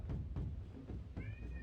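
A pet cat gives a short faint meow near the end, after a few soft knocks and thumps from something being pushed around nearby, quiet indoor setting without talk.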